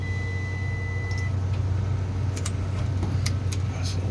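A multimeter set to continuity gives a steady beep partway through, mid-level among loud rumbling engine and motor noise during service on a new Carrier commercial package HVAC unit that is not cooling.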